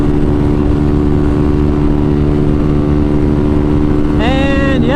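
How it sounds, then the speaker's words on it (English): A Kawasaki KLX300SM 300cc supermoto motorcycle cruises at highway speed, its engine holding a loud, steady drone under constant wind rush, with a brief rising whine near the end. "300cc, basically dual sport supermoto that'll do 90 miles an hour with ease"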